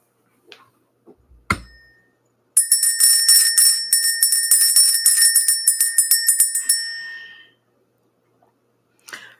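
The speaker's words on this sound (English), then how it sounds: "We're going to ring this bell." A small bell is rung rapidly and continuously for about four seconds, a bright shimmering ring with a steady clapper rhythm, close and loud, framed by a few faint knocks and handling sounds with no talk.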